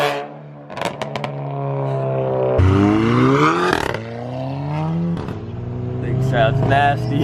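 A Ford 6.0 Powerstroke diesel pickup truck engine idling then revving hard several times, rising and falling in pitch, loud and close, with a voice briefly talking.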